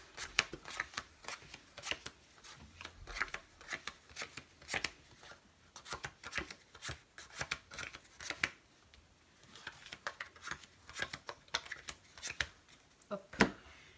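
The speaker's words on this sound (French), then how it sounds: "pour commencer ce tour on peut faire 5 tas de 5 cartes" Playing cards flicked and dealt into five piles of five, a steady run of crisp, close snapping flicks at low volume, with a brief pause midway and no voices over them.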